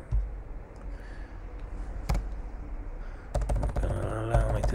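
Keys tapped on a computer keyboard while entering a country name, a few scattered clicks followed by a quick burst of typing near the end, close and clear over faint background noise.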